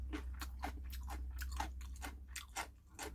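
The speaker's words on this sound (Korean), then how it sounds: "2018년도 된 고춧가루로 무친 오이김치 한번 오이 무친 거 한번 먹어보겠습니다" Someone eats cucumber kimchi seasoned with chili powder from 2018: a close, quiet series of wet, crisp crunches and chewing bites in a quick irregular rhythm, with no talk.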